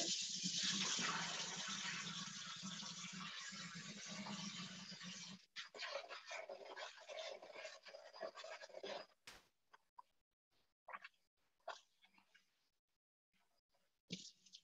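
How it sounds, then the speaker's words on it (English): Rice grains being rinsed in hot water in a home kitchen, with a steady loud rush of running water for about five seconds, then intermittent splashing, swishing and dripping as the grains are rubbed and the water is drained. "So that's rinse number 2 in hot water."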